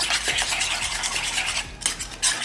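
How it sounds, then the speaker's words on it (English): A spoon stirs a thick, olive-oil-heavy sauce for Italian chicken rolls in a pan, scraping and swishing in a steady close rhythm with a faint sizzle underneath and no talking. "So I'm just stirring that in there."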